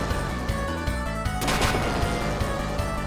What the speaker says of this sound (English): That gunshot is fucking bullshit